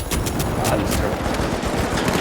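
Automatic turret gunfire in the video game The Finals, a dense, continuous rattle of rapid shots at a steady, loud level throughout, with no talk.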